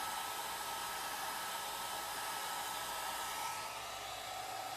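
A hair dryer blows steadily, a loud continuous whooshing hiss that holds level for several seconds with no voices.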